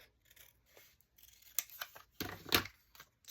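Scissors snipping paper trim for a flip-flop journal, a series of quick close cuts with short gaps, sharp and isolated against a quiet background.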